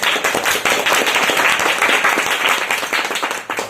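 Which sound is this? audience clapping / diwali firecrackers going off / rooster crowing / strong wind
audience clapping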